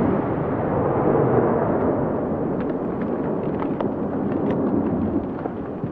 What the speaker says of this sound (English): So far, more than 8 million tons of rock have been blasted off the mountain.